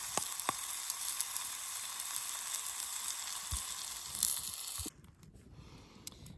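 Sausages sizzling over an outdoor campfire with potatoes set to the side, a steady close crackling fry that cuts off abruptly, with no talking.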